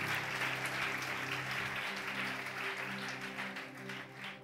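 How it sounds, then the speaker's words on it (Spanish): A church congregation applauding together during a sermon, a dense, sustained round of clapping heard from within the hall that holds steady and then begins to thin out, with no voices over it. "le dan un aplauso al Señor porque podemos contar con Él"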